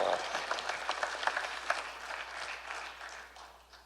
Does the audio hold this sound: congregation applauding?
yes